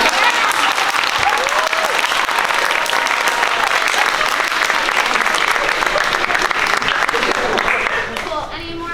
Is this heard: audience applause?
yes